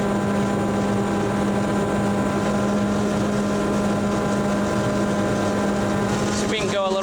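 A boom truck engine holds a steady loud drone with a constant hum as the throttle is eased up slowly, continuous throughout, with a brief warbling change near the end.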